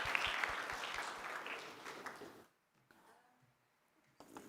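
A conference audience at GTAC PEC 2026 applauds Ronette as she comes on stage, clapping briskly and then stopping abruptly, followed by near-silence and faint rustling.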